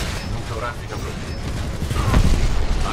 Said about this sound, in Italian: Buona esplosione